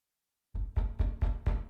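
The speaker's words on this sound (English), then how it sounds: "she heard a knock on the door" Five firm knocks on a wooden door, evenly spaced and close, following a short silence, with no voices.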